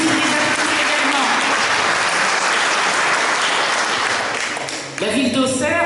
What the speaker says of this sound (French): Merci les applaudissements également